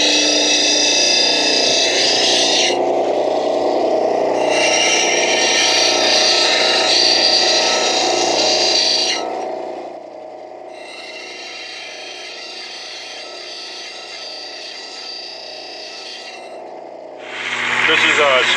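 A datolite rock from the Keweenaw area of Michigan is polished on a 1200-grit lap, giving a steady, loud whirring grind with bright surges that drop to a softer, even hum midway and then swell again.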